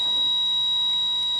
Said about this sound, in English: you're hearing the buzzer going off